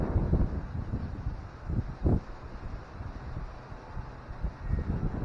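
Wind buffets an outdoor microphone in uneven gusts, a steady low rumble rising into a few louder thumps, with no voice over it.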